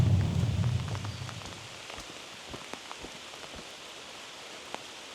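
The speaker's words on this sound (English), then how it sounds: "Keep raining." Rain falls with a soft steady hiss and scattered sharper drop hits. A low rumble at the start fades within the first second or so, and no one speaks.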